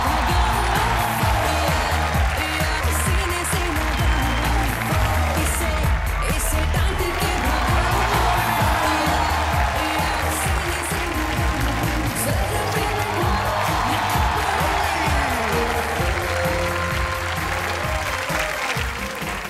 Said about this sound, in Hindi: सो एक बार जोरदार तालियां अमृता सिंह के लिए।